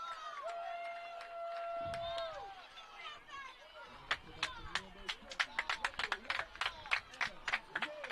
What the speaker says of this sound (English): Good crowd here. Good Hancock County crowd here too.